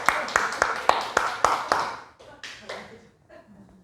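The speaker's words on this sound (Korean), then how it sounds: "박수 한번 쳐줘야 되잖아요." Clapping from a church congregation during a sermon, a run of about seven sharp, evenly spaced claps that grows ragged and sparse and then dies away.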